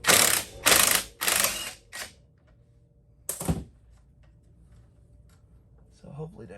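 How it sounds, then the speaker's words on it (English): A ratchet wrench on a 17 mm strut bolt of a Honda Civic, several loud bursts of rapid clicking followed by a metallic clunk and faint mechanical noise, with someone speaking near the end. "we're gonna switch back over to the 17, where we're gonna pull the strut bolt out the bottom."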